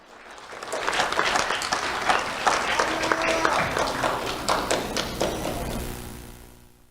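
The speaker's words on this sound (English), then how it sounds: "Round of applause for Eve Marie and Claudia" An awards ceremony audience applauds two honored students, the clapping swelling in, holding for several seconds with scattered taps and thumps, then thinning out.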